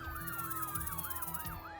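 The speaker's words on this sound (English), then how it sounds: "Police sirens are still blaring in the distance." Police sirens wailing with a fast, regular rising and falling yelp, several cycles in a row, steady and fairly faint as if some distance away, with no voices over them.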